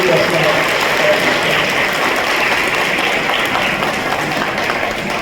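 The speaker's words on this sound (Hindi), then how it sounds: "जोरदार तालियों से" An audience applauds to welcome the chief guest, a newly elected MLA, at a Brahma Kumaris gathering in Assandh. Loud, dense clapping runs steadily throughout with a voice audible underneath.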